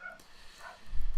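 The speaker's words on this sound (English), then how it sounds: "I'm hearing your dogs in the background" Dogs bark somewhere in the background of a home, a few short, faint yelps and woofs rising toward the end of the moment.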